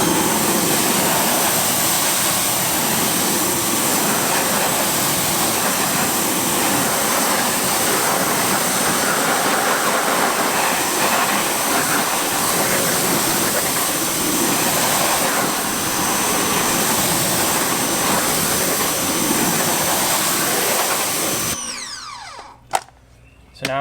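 Water spray rinsing the wheels of a BMW M2 Competition during a car wash, a steady, loud hiss that runs without pause for about twenty seconds and then cuts off abruptly, leaving near silence.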